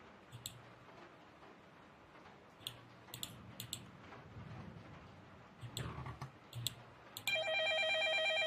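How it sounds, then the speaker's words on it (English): A telephone rings in the indie PC game Project H, with a steady electronic ringtone coming in clearly near the end, after a stretch of scattered clicks and soft game ambience. "It's like, where the phone's ringing"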